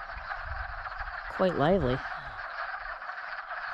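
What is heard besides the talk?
wood frogs calling in a pond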